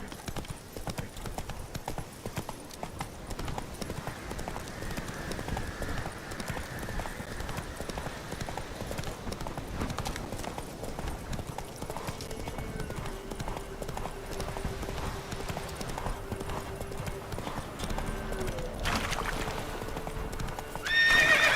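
Roach the horse galloping in The Witcher 3, a continuous rapid drum of hoofbeats with a whinny partway through, steady and close over background game music.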